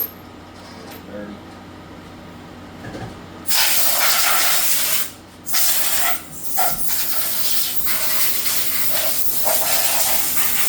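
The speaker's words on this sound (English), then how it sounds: "Spray it off a little bit. It's dirty." An air or fluid spray gun blasts loudly while a dirty machine vise is cleaned off during machining of a Harley-Davidson FXR primary cover, a steady close hiss broken by a few brief pauses after a quiet start.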